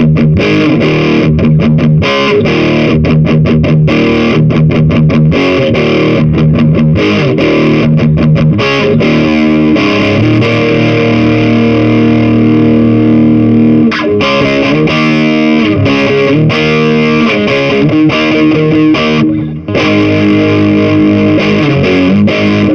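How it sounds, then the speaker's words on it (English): Electric guitar played through a Cubase VST Amp Rack amp simulator with reverb switched off, a loud distorted tone with chugging rhythmic chords and sustained notes, dry and continuous with no voices. "I've turned that off, so now you hear it without the reverb."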